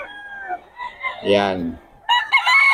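Roosters and chickens at a Friday poultry market in Bocaue: a loud close crow rises and falls mid-clip, surrounded by shorter clucks and calls, with someone briefly speaking.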